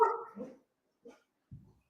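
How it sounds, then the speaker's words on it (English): Indoor dogs let out a loud bark followed by a couple of shorter, quieter yips and a low woof, spaced irregularly with silence between. "Got my dogs going on."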